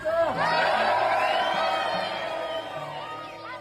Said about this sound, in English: the crowd sort of cheered back